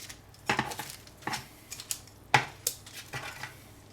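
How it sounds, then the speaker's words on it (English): Baked chicken wings being turned over one by one on a metal pan, giving a string of sharp clinks and scrapes, some louder than others, spaced irregularly at close range with no talking. "So I'll just turn them over for even cooking."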